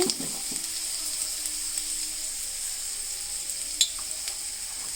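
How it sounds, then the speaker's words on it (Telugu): Amaranth leaves frying with onions and dry red chillies in a pan, a steady close hiss of sizzling oil throughout with a few soft stirring scrapes and one brief sharp clink near the end. "తోటకూర ఫ్రై చేస్తున్నాను"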